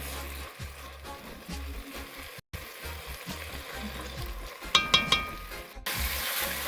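Tomato cooks in a pan and releases its juices, a soft steady sizzle with occasional stirring clatter and brief watery splashes, close and moderately quiet, with no talking.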